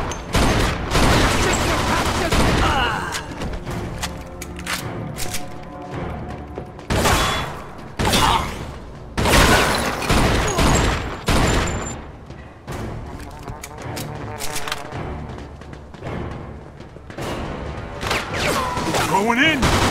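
Sustained gunfire in the Mafia 2 video game: dense bursts of shots and automatic fire with thuds and booms, loud and continuous throughout, with a few short lulls between volleys.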